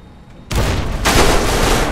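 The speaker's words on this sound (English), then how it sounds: "I have 8 frag grenades" Frag grenade explosions in Fallout: New Vegas, a quiet lull broken by a sudden loud blast, then a second, bigger boom half a second later that rolls on with a dense rumbling roar.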